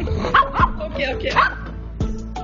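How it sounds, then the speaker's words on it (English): Small pet dogs bark and yip indoors, a few sharp close barks mixed with whiny yelps, with a person speaking over and between them. "Lala, you're barking in here, Yaya, not nice."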